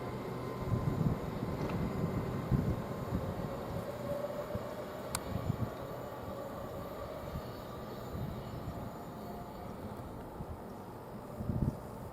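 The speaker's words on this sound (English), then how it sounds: "this 1318 service, which is leaving at 1331 from from Harrogate towards London King's Cross, it is now departing" A train departs Grantham station bound for London King's Cross, a long steady rumble of wheels and engine rolling at a distance, with rhythmic low thuds of passing carriages and one brief sharp metallic squeal.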